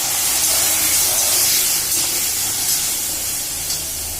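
Vegetables with moth beans being stirred in a pan and cooked in steam, giving a loud, dense, continuous hiss with a faint rattle near the end, close and unbroken.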